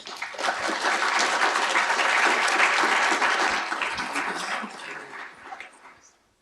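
An audience at a UC Davis engineering expo applauds to welcome a keynote speaker, with steady, full clapping that swells, holds for several seconds and then tapers off to silence.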